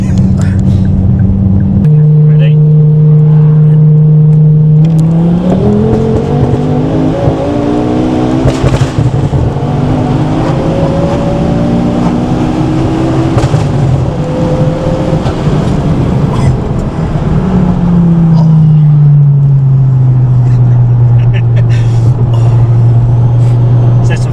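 A 530 BHP Ford Focus ST accelerates hard with the engine rising through gears, pitch climbing and dropping at each shift, loud from inside the cabin with continuous engine roar.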